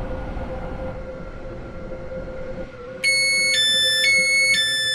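A five-coach Airlink train in the Roblox game Stepford County Railway gives a steady low rumble, then a loud, repeating high electronic chime pattern starts partway through and carries on over the running noise.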